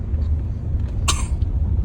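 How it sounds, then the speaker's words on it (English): One short, sharp cough near the middle of the clip, close and fairly loud, over a low rumble from a moving car with no talking. "Just coughing."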